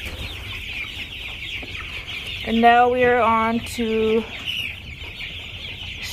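Chickens cluck and squawk in a short loud burst during feeding, nearby and clear against steady high insect-like background noise, while a person briefly talks.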